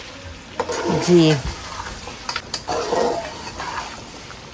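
Onions frying in a pan for Kabuli pulao give a soft sizzle broken by a few louder stirring scrapes, close by, with someone speaking briefly.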